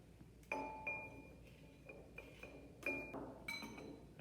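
Soil scooped into a glass beaker in a soil lab, a handful of sharp glassy clinks and taps spaced about a second apart, close and faint in a quiet room.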